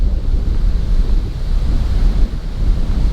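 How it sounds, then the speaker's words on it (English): Strong outdoor wind gusts buffet a Rode VideoMic Pro Plus mounted on a GoPro 10, giving a loud, continuous low rumble that surges and swells unevenly throughout. "I'm just feeling the gust."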